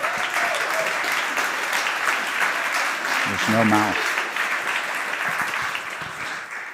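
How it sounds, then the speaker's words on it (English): Warm, sustained applause from a conference audience at a re:publica 2023 talk fills the room with dense clapping throughout, while a voice speaks briefly over it midway. "you can give a warm applause for the whole team which is working in the background for this talk"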